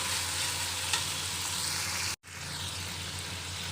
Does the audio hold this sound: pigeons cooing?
no